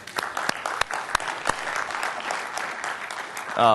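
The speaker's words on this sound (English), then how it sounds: "A nice round of applause for them." A crowd applauds steadily, many hands clapping in a dense, even patter that swells slightly toward the end.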